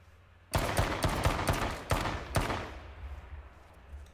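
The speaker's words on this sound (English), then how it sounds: "He's shooting at me." Rapid automatic gunfire in the battle royale video game H1Z1 King of the Kill, a burst of loud close shots with a few sharper cracks, then a fading reverberant tail; no speech.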